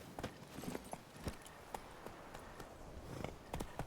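Hoofbeats of the horse Roach in the video game The Witcher 3: Wild Hunt, an irregular series of fairly quiet clopping thuds as the horse moves in short uneven steps, with no talking.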